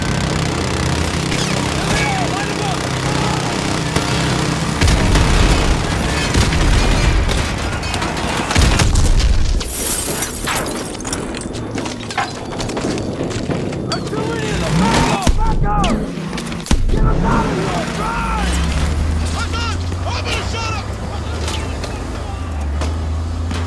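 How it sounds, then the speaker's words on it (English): Dense battlefield din from the Call of Duty: Modern Warfare 2 mission, with loud booming explosions and bursts of gunfire layered over constant combat noise and radio-style voices talking throughout. "We're taking sniper fire from multiple directions."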